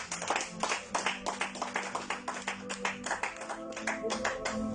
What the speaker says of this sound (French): On acclame une fois pour le Seigneur